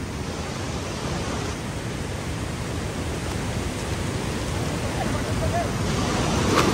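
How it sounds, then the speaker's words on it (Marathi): Strong rushing water flowing under high pressure, a dense, loud, steady roar that fills the scene without a break. "पाण्याचा प्रेशर लय डेंजर वाढलेला आहे"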